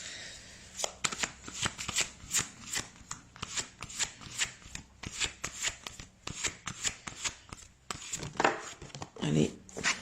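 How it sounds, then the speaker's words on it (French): Tarot cards being shuffled by hand, a rapid run of crisp, papery riffles and slaps in close succession, close and fairly loud, with a brief quieter pause near the end. "donc là on va tirer 3 cartes pour les énergies de cette semaine"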